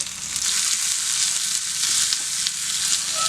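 Finely chopped small shallots sauté in hot oil, making a dense, even sizzle that stays close and continuous throughout with no voices.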